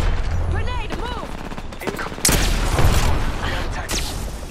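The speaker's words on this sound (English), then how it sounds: "They're shooting at me." Loud bursts of automatic gunfire and explosive booms from an Apex Legends firefight, layered with in-game effects and a speaking voice through the whole stretch.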